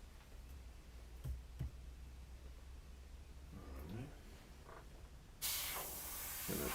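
Airbrush spraying green paint while clogged, giving a speckly spray: a steady close hiss that bursts louder and brighter near the end, with faint clicks and a soft voice in the background.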